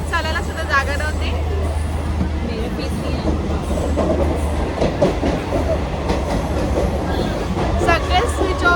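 Crowded passenger train pulling into Dadar, a heavy steady rumble and rattle of carriages with a constant low hum, loud and close, mixed with the murmur of voices and brief squeals.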